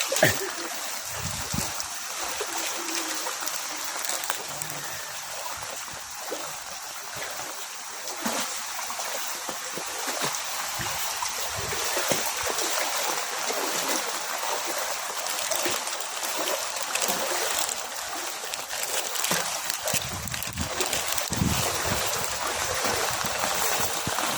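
Typhoon floodwater at a river mouth where it meets the sea, a continuous broad rushing and splashing wash that stays steady and fairly loud throughout, with no clear speech over it.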